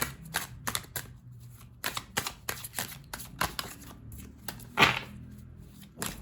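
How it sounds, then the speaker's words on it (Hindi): A deck of tarot cards is shuffled by hand nearby: crisp, short riffling bursts come in an irregular run of quick flutters and pauses, with no voices. "पहले टैरो कार्ड शफल करके हम चेक कर रहे हैं। ठीक है, पहले मैं अच्छे से शफल कर लेती हूँ कार्ड्स को।"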